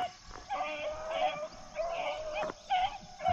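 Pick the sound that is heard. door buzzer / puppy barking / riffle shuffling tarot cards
puppy barking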